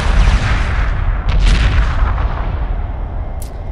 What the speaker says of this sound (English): I'm gonna have to turn down explosions